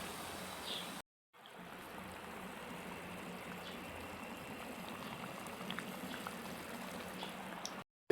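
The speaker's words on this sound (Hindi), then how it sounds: "ये देख रहे हैं फ्राई हो रहे हैं" Chocolate donuts frying in hot oil, a steady dense bubbling and crackle that runs continuously, broken once near the start by a brief silence, with no voices over it.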